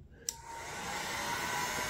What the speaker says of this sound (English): heat up the plastic on low with the heat gun